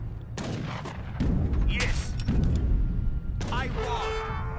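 Cannons firing in the Age of Empires III strategy game, several loud booming blasts in quick succession, with battle noise carrying on underneath and a voice speaking over it.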